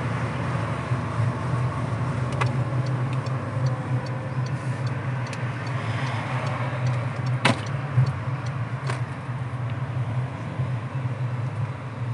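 A car driving through Bastia toward a demonstration, steady engine and road rumble from inside the cabin with occasional ticks and clicks throughout.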